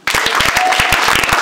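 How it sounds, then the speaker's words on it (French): A church congregation claps in acclaim of Jesus, steady dense applause filling the whole moment at close range with no voices on top. "On acclame Jésus."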